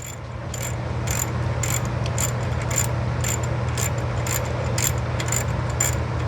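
A ratchet wrench tightens bolts on a Corvair 110 engine during reassembly, giving a steady run of crisp, rapid clicks, about a dozen strokes, close and clear over a constant low hum.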